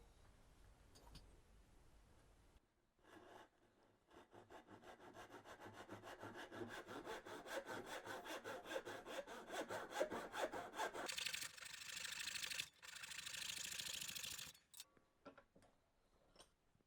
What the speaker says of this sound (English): I'm just going to cut it off with a carcass saw